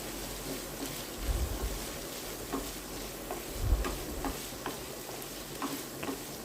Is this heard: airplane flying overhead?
no